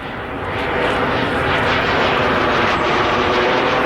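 An aerobatic airplane's engine at full power while it pulls through an inside loop at a military air show, a loud, steady roar with a slightly wavering pitch that stays close and continuous, with no voices.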